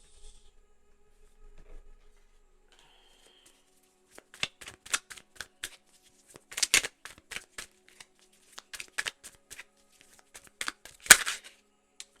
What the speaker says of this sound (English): Let's grab a stack of index cards.